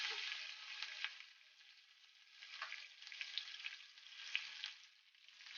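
Chopped green chillies fry in hot oil in a pan for a raw tamarind pickle, giving a steady soft sizzle that swells and fades as they are stirred, with no talk.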